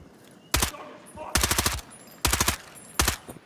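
Gunfire in a hardcore extreme-AI shooter game, where an enemy sniper fires while moving: four loud, sharp bursts of rapid shots spaced about a second apart, each a tight cluster of cracks over a faint background hum.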